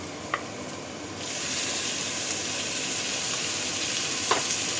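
Chicken meat for pansit sizzles steadily in a hot pan, a loud continuous frying hiss that swells after the first second, with a couple of faint clinks of a utensil and no talking.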